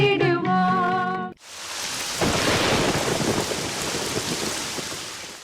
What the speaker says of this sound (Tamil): அடடா, என்ன மழை என்ன மழை!